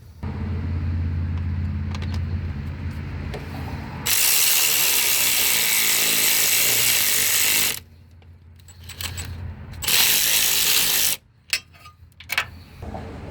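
A freeze plug is tightened into a Ford 460 engine block with a ratchet, giving long runs of loud, close, rapid clicking interrupted by short pauses and clanks.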